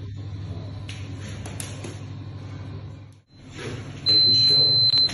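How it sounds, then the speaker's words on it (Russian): A bread-baking oven in a bakery gives an electronic beeping signal at the end of a bake, a loud sustained tone near the end over background rumble and machine noise. "Так вот, печка дает звуковой сигнал."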